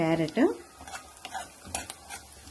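Carrot and capsicum frying in a pan for white sauce pasta, with stirring scrapes and clinks over a light sizzle, a short burst of voice near the start.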